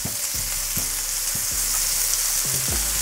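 Bacon frying crisp in a pan, a loud continuous hiss and sizzle with a low repeating pulse underneath, no talking.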